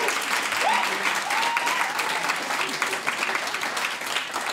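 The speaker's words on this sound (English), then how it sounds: "Please a round of applause." A room of listeners applauds a panel at the close of a talk, with sustained dense clapping and a few faint voices and whoops mixed in.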